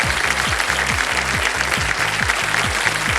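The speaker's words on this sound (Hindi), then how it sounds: "जनता ने आने से पहले ही ताली बजा दी।" Studio audience applause on the quiz show KBC, a dense steady wash of clapping close and loud throughout, with a low rhythmic musical beat pulsing underneath.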